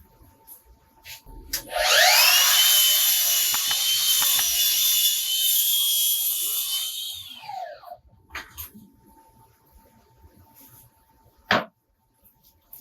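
A saw cuts an inch off a piece of wood for a Milwaukee M18 outfeed table add-on, giving a single loud rasping stroke of about six seconds that tails off, followed by scattered faint clicks and one sharp knock.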